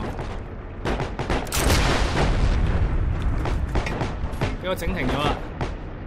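Tank cannon shots against a Sherman tank in the World War II game Heroes & Generals, heavy booming blasts in a loud continuous din of battle noise, with someone talking over them.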